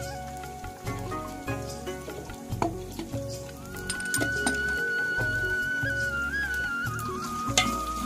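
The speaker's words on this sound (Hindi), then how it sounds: "हम बना रहे हैं पुलाव।" Pulao with meat and spices stirred and frying in a pot, a steady sizzle with repeated rhythmic scraping and clinking of a spoon against the metal, close and continuous with no talking.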